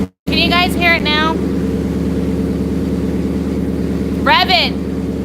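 A twin-turbo 2019 Mustang GT idles just after its first startup, a loud, steady, throbbing engine drone running throughout, with people briefly speaking over it.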